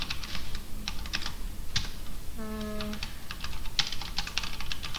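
Code being typed on a computer keyboard in quick, irregular bursts of crisp close key clicks, with a short electronic tone sequence partway through over steady room noise.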